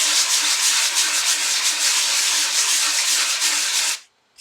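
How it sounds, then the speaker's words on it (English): Dry gesso being sanded with a medium-grit 3M sanding pad to smooth the surface, a loud, close, continuous rhythmic rasping scrub that stops abruptly near the end. "I'm going to sand the gesso so it gives me a nice"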